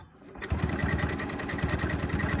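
A sewing machine starts up and runs steadily, stitching binding onto a quilt. After a brief quiet moment, a fast, even, rhythmic mechanical whirring chatter sounds loud and close for the rest of the clip.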